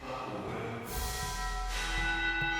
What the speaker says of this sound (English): Just listen to the fucking bell.